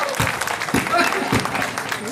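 An audience claps at a Hindi poetry gathering (kavi sammelan) at a Hindi festival in Datia. The applause swells in several uneven bursts over a steady crowd murmur, moderately close and fairly loud throughout.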